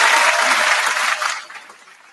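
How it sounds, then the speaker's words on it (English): Short burst of studio-style applause, a dense wash of clapping that holds briefly and then fades away within about two seconds. "Round of applause for that."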